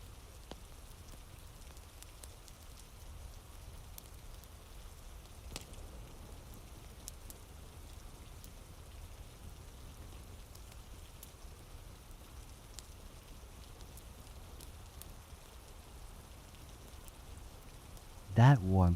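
Steady rain falls outside at Hadrian's Wall at night, a soft, even patter and hiss continuing throughout, with a brief louder knock right at the end.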